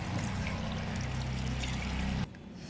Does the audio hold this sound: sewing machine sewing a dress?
no